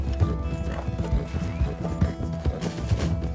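A horse in the Red Dead Redemption 2 video game clip-clops with steady, close hoofbeats and gives a whinny partway through, with faint talk underneath.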